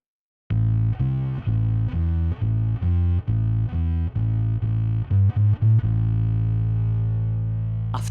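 Distorted bass riff from a song, played straight on the strong beats rather than syncopated: steady chugging notes with effects-laden tone, loud and close for several seconds before ringing out.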